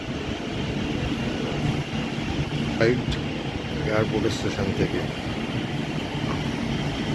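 A metro train rumbles into Airport station platform 1 on the Kolkata line toward Jessore Road, a steady low roar filling the platform while someone talks over it.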